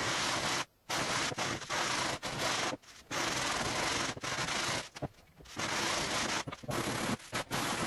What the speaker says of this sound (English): It's just a question of sanding it down now to the right thickness